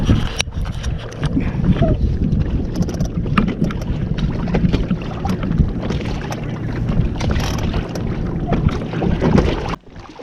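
Sailing dinghy in the Musket Cove regatta being paddled or rowed by hand in dead calm, a steady close mix of water sloshing, hull knocks and wind buffeting on the microphone, continuing without a break for the whole stretch.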